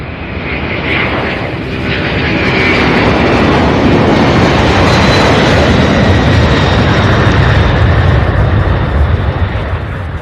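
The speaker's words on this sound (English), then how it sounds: "We have an A300 lining up now." An Airbus A300 jet at Louisville International Airport with UPS Worldport traffic, its engines a loud, continuous broadband roar that swells over the first few seconds and holds steady, close and dominant with no talk.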